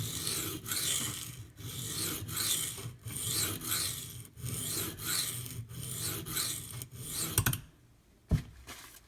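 Maxamet/D2 knife steel rasped across a coarse Kyoto 150 grit sharpening stone in repeated back-and-forth strokes, a gritty scraping rhythm close up, ending with a brief pause and a couple of sharp clicks.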